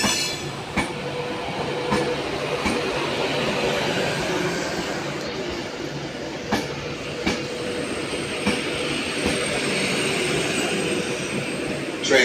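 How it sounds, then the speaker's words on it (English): A broad, continuous rumble of a train approaching a station platform fills the space, with faint clicks and a high whine over the steady roar. "Train now approaching"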